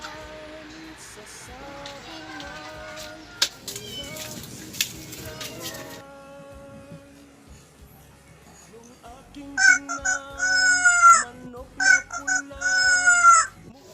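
Chickens cluck and squawk in short bursts near the microphone, mixed with scattered rustling and a few clattering knocks.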